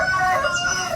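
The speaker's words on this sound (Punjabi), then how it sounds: "ਮੁਰਗਾ ਬੋਲਣ ਲੱਗਾ।" A rooster crows in a village farmyard, one sustained cock-a-doodle-doo that is loud and close, filling the whole second with no talk over it.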